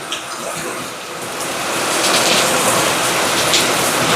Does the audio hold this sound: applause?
no